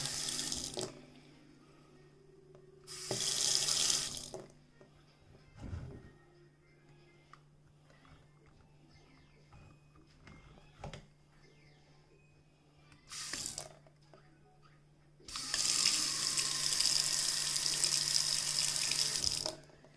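A FLOW motion-activated single-handle kitchen faucet, newly installed, gushes into a sink in several separate bursts, short ones early, then a longer loud stream near the end, with quiet clicks between.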